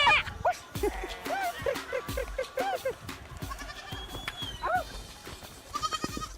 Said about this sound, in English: This afternoon it's getting the goats back into the pen to milk.